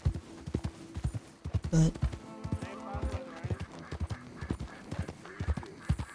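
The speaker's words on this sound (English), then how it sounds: "There is a horse over there." Horse hooves clip-clop steadily in Red Dead Redemption 2 along a road, with a brief neigh partway through, all under ongoing conversation between players and in-game characters.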